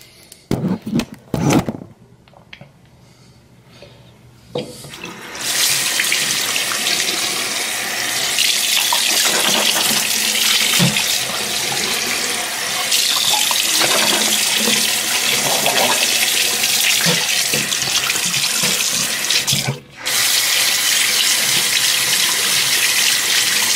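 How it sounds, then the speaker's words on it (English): Tap water running into a sink during mouth rinsing, a few short clatters and splashes first, then a steady loud gushing stream that briefly stops and resumes, with no talk. "Let me wash my mouth."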